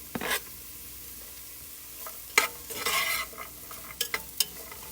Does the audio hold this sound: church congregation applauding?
no